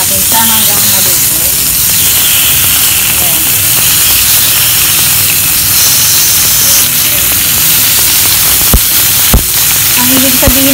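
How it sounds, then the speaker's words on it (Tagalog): Pork slices for ginger pork sizzle loudly in a frying pan, a constant close crackling hiss with occasional sharper pops and clinks throughout. "Lagay lang natin yung ating pork sa fry pan. Sisihin lang natin siya hanggang maluto."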